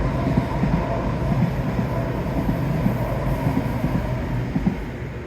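A train passes near a paved path by Bitton Park, a steady low rumble of rolling wheels and carriages running continuously at moderate loudness, with no voices.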